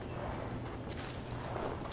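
Horse hooves clip-clopping steadily at a walk in the Assassin's Creed Valhalla video game, a continuous close rhythm under faint game ambience.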